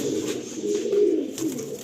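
Paired tournament-quality pigeons cooing close by as they are let go, a low throaty burbling murmur lasting under two seconds with soft rustling beneath.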